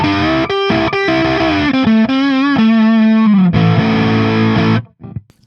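Donner DST 152S electric guitar played through the neck and middle pickups with heavy distortion, a run of sustained chords and bends, loud and close, cutting off to silence near the end.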